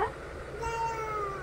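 A cat gives a single short, fairly faint meow, heard near over a low background hum.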